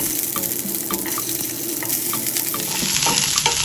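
Small onions and garlic fry in a pan for a traditional tamarind chammanthi, with a steady close sizzle and occasional light stirring clicks, no voices.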